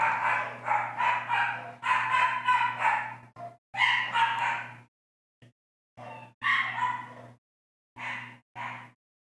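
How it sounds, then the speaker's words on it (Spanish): Neighbour's dogs barking at the door, a run of sharp, fairly close barks in quick bursts, broken by short pauses and a few isolated yips before more barking. "los perros lo huelen y empiezan a ladrarse siempre en la puerta"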